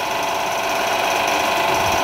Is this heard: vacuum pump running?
yes